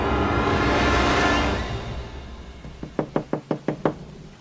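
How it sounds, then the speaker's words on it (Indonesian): A house door banged on by fists, six sharp heavy knocks in quick rhythm, loud and close, following a fading rush of noise. "Kami gedor-gedor pintu rumah Abah"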